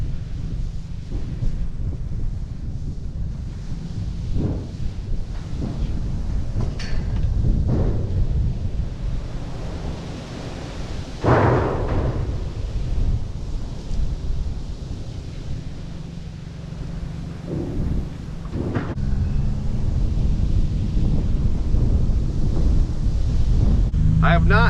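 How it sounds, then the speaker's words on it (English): An out-of-season storm at a farm during a power outage, with wind roaring steadily against the microphone and several deep rolls of thunder rising and fading throughout. "summer storm is what it feels like, but it's not summer."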